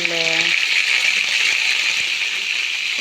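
Liver and gizzards fry in oil and ghee with a steady, close hiss and sizzle that runs without a break, and a short voiced tone sounds at the very start.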